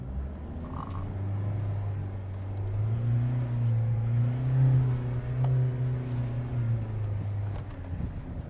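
A Mitsubishi L200 pickup crawls across an off-road slope, its engine a steady low drone that swells slightly mid-way, with wind buffeting the microphone and no talking.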